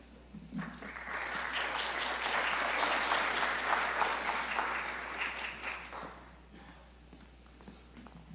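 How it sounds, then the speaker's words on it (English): A burst of audience clapping greets a speaker at a community college honor society graduation celebration, rising quickly, holding steady for several seconds, then fading into scattered claps and room noise. "you clapped for me"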